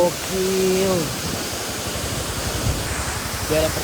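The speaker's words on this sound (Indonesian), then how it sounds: "gue ketemu air terjun kayak begini" A roadside waterfall on a mountain route in southern Cianjur rushes as a steady broadband roar, with a voice briefly talking over it near the start and end.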